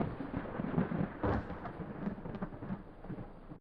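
Thunder rolls low and steady through a dark, stormy night in a horror video game, a distant rumble under faint rain-like hiss with a brief swell near the start.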